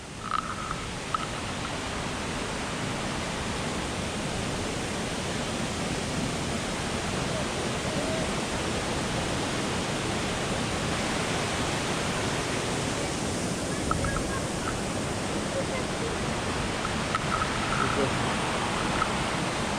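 A waterfall in Chile, viewed from a lookout, produces a steady, even wash of broadband rushing water that holds unchanged for the whole stretch, distant rather than close.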